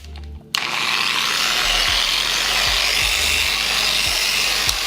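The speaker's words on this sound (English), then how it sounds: "We're gonna get a little fast on this polishing." Hand polishing the paint on a Harley Sportster motorcycle, a steady close rubbing and buffing hiss that runs continuously after a brief quiet start, with no talking.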